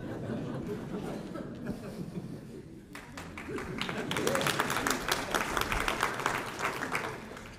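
Audience applause at a lecture on Catholics and art fills the hall with dense, steady clapping that swells and grows louder midway, with scattered chuckles and murmurs in the crowd.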